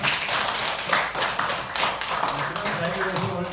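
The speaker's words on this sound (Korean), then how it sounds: "제가 이제 그런 대목에서 박수 한번 하죠" Audience clapping at a Korean lecture, a brief burst of hand claps that runs under a speaker's voice.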